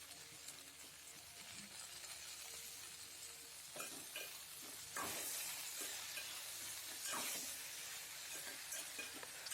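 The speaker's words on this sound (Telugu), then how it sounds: "ఇప్పుడు మరొకసారి బాగా మిక్స్ చేసుకుందాము" Brinjal and tomato curry stirred in a pan: a spoon scrapes and clinks against the pan over a steady sizzle of cooking, close and fairly quiet, with a few louder scraping strokes.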